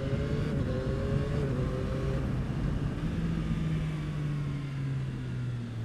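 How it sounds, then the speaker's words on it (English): A 2021 Yamaha MT-09 SP motorcycle slows on a country road, its engine note dropping in steps as the quick shifter clicks down through gears, loud and close with steady wind rumble. "Just drop it down using that quick shifter on those brakes, really slow it down"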